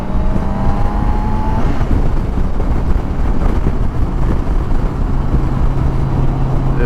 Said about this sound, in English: the bike will take off a little bit faster according to how much throttle you give it